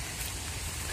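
Rain falls steadily on a rural village garden plot, a brief, even, close hiss of drops with no voices.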